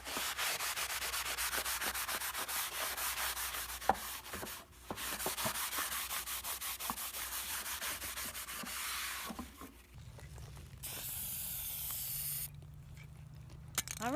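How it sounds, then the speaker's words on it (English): Steady rubbing and wiping across a decorative wooden sign as excess finish is cleared off, a continuous close scrubbing texture that pauses briefly, then gives way near the end to a hissing spray of clear coat. "now I'm going to wipe off the excess."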